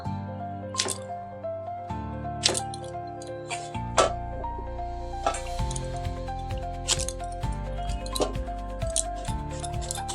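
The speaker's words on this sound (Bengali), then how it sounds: "কুমড়োগুলো একটু বড় বড় করে কাটতে হবে" Pumpkin is chopped into large chunks with a knife, a series of sharp, irregular cutting taps and cracks on a board over faint background music.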